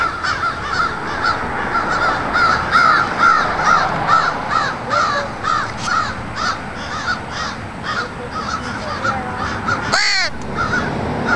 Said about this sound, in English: That's two crows.